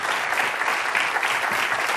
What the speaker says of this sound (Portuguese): Um aplauso para os três.